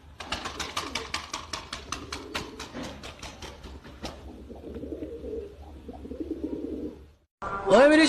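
Soft pigeon coos and rustling near the birds, with a burst of rapid clicking or flapping early on and a louder noise at the end.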